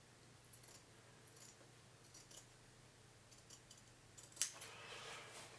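Fabric scissors snip quietly through denim while cutting a jeans pocket piece, a few faint, separated crisp cuts over a low hum, ending with one louder close clack.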